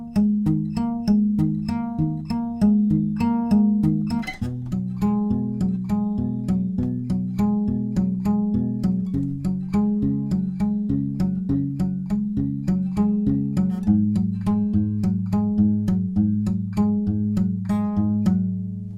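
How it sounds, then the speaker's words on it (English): A riff fingerpicked on acoustic guitar in standard tuning, a steady rolling pattern of plucked notes over a repeating bass line, close and clean, played alone without any voice. "And altogether the riff will sound like this in standard tuning."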